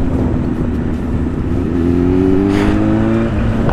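Honda CB 1000 motorcycle engine revving up close, a loud rising note climbing steadily before dropping back, over a constant rumbling idle.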